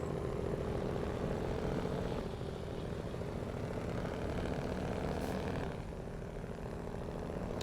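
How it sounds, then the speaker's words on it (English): A heavy truck engine idles in the Snowrunner video game, a steady low rumbling drone that holds evenly throughout and dips slightly near the end, with no one talking over it. "God, I love the sound of this engine."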